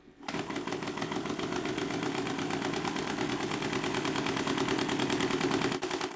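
A homemade Stirling engine mounted on a bicycle runs at speed, giving a fast, steady mechanical chatter and ticking rattle that carries on evenly, close by, with no talk.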